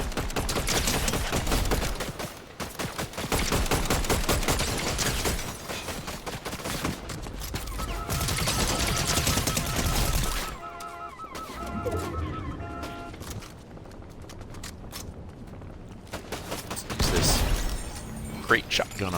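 Shotgun blasts and a flurry of other weapon fire in Fortnite, loud and busy during the first half before thinning into quieter game effects and chicken-like clucks, with a voice talking over the action.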